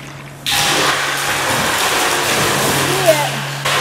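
Steady rushing water pours from the pipe of an off-grid gravity water system fed from a beaver pond, a broad continuous hiss starting abruptly and running without pause, with a low hum underneath.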